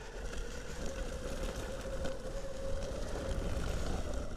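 A JKING Jupiter X electric skateboard rides off-road over dirt and sand, giving a continuous rough rumble of wheels on loose ground with a steady motor whine, close and fairly loud, with no talking.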